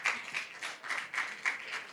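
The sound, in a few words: audience applause for the panelists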